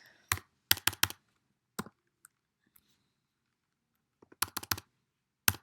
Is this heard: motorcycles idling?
no